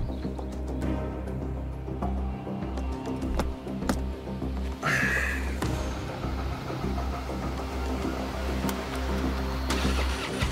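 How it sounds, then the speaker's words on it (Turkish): A car engine cranks repeatedly without catching, rhythmic starter whirring in a steady close loop, with a brief rattle midway and no speech. "Araba çalışmıyor."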